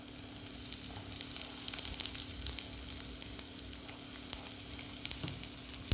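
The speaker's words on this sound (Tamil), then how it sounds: "பெருங்காயம் பொரிஞ்சதுக்கப்புறம்" Asafoetida powder fries in hot oil with mustard seeds and lentils, a soft steady sizzle close by with scattered small crackles and pops, and no voices.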